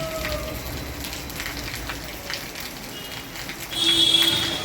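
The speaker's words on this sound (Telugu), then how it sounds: "గత 2 రోజులుగా ఆగకుండా వర్షం కురుస్తుందని" Heavy rain falling in Nellore city, a steady hiss of downpour on surfaces with a brief electronic tone near the end.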